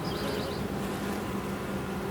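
Honey bees buzz around an open beehive in a soft, continuous hum of many wings, faint and steady with no other sounds.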